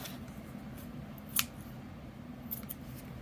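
Scissors snip through light worsted yarn wound into 100 loops for a pom pom, one crisp close cut followed by a couple of quicker snips, against a quiet room.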